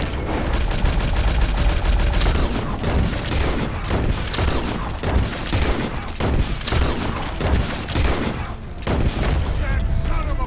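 Dense, continuous gunfire from a shootout in Red Dead Redemption 2, with rapid overlapping shots and heavy booms packed together for the whole stretch, loud and close throughout.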